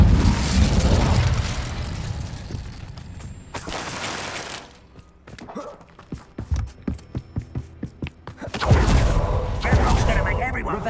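Fiery spell burst in the Hogwarts Legacy video game, a loud whooshing blast followed by a run of sharp clicking, ratchet-like pops and a second roaring burst, with game voices briefly heard.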